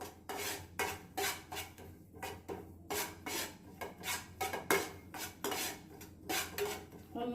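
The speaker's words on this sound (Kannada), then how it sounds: "ಈ ರೀತಿ ಹುರಿಬೇಕು ಲೈಟಾಗಿ ಹುರ್ಕೊಂಡ್ರೆ ಸಾಕು" Poppy seeds dry-roasting in a pan, stirred with a utensil in a rapid series of rhythmic scraping and rattling strokes against the metal, fairly quiet, with no talk.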